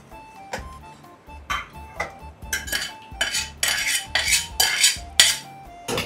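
A bowl and a pressure cooker are handled in a home kitchen while drumstick-leaf dish ingredients are poured in, giving a run of close clinks, scrapes and metallic knocks that build in loudness, with no talk.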